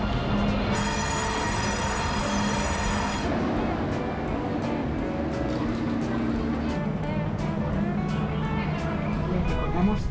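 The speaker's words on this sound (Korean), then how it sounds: "기차 들어왔다." A train pulls into a Spanish station, bound for Zaragoza, with rumbling wheels and a long metallic squeal, amid steady background noise and some nearby voices.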